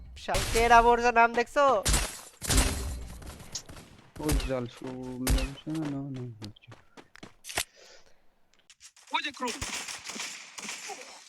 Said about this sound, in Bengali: ভাই কুরুল বাইরে হেডশট মাইরা দিছে